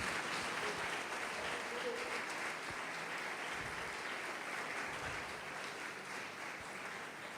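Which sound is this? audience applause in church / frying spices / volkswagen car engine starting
audience applause in church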